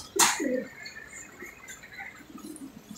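Pigeons in a pet shop give a short burst of soft cooing and chirping, with a brief flutter near the start, then quieter intermittent calls against low background noise.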